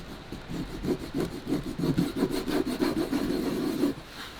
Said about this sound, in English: I'm just using my file, my cobbler's file for this one.